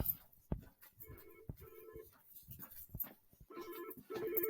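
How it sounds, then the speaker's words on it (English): Telephone ringing in a quiet room, with repeated electronic ring bursts in short pulses, fairly faint and alone, growing slightly louder toward the end. "all right, phone is ringing."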